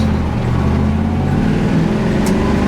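A 1968 Chevrolet Camaro RS/SS with a 396 big block V8 driving, a loud steady low engine rumble heard from inside the car, continuous and close.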